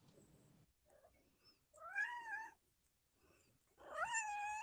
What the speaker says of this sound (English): Listen to that kitty.